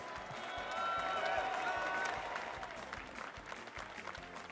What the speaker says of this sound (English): Everyone, can I please get a round of applause for IFC Yipes?